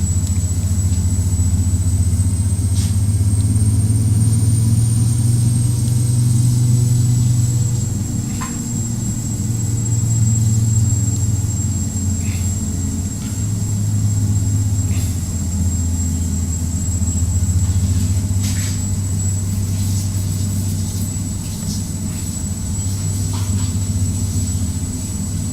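A Beechcraft King Air 350i turboprop in the FSX flight simulator holds a steady engine drone with a constant high whine, loud and continuous throughout with no talking.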